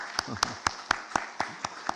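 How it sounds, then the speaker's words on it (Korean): A church congregation claps for the choir in a steady, even rhythm, roughly four claps a second, with a faint voice murmuring underneath. "우리 오늘 찬양대 박수 한번 쳐주세요"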